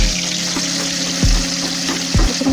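Two bay leaves sizzling in hot oil in a pan before a bhetki fish head is cooked, a steady loud frying hiss with a few brief clinks.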